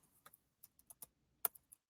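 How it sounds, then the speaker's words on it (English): Typing on a computer keyboard: a sparse run of about ten quiet, sharp key clicks at an uneven pace, close and alone in near silence. "I'm typing this as you say it."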